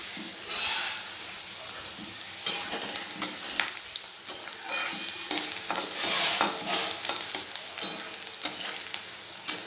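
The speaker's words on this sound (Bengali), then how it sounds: "পেঁয়াজগুলো ভাজা হয়ে গেলে মশলাগুলো দিয়ে ভালো করে কষিয়ে নেব।" Onions and spices frying in a pan, with frequent scraping stir strokes over a crackling sizzle.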